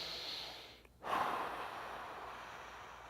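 A person exhales steadily through a diaphragm breathing exercise aimed at stabilizing the spine and pelvis; a brief pause, then a close, sustained breathy airflow that slowly fades, with no talking.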